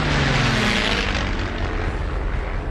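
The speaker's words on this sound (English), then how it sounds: "The Lockheed P-38 was an extraordinary airplane." The engine of a Lockheed P-38, a twin-engine fighter, gives a loud, continuous propeller drone. Beneath it sits a low, throbbing rumble that holds steady throughout.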